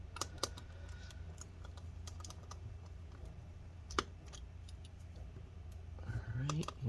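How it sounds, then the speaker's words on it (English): Small screws being removed from an ASUS Q526F laptop during disassembly, with scattered light clicks and taps from the screwdriver and metal parts, plus a faint low hum and a brief rattle near the end. "So let's go ahead and get all those screws out."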